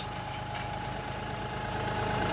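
Tractor engine straining as it pushes into a bush, a steady, throbbing low drone with a faint mechanical rattle, close and unchanging throughout.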